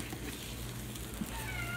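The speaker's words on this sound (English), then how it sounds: "Excuse my cat meowing like a crazy cat" A pet cat meows and whines in a home kitchen while a breakfast sandwich is being cooked, the calls soft and fairly distant over a steady low background hum.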